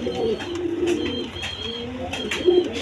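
Breeding pigeons coo in low, repeated throaty calls, close by, over a steady background din.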